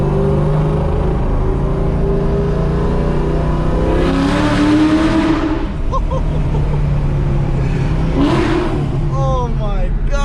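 Ford Mustang SVT Cobra Terminator engine roars loudly while driving, a steady deep rumble from inside the car with two rising rev surges, the second revving up near the end.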